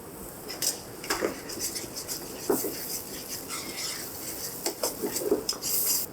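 Long grain brown rice toasting in oil with adobo seasoning in a skillet, stirred so the utensil scrapes and clinks against the pan in irregular bursts over a faint steady hiss.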